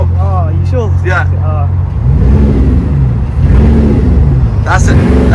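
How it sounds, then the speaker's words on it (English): A 16-cylinder, 1,500 bhp supercar engine revs up nearby in bursts of rising, deep engine tone, with people talking before and between the revs. "you can give it a little rev as well"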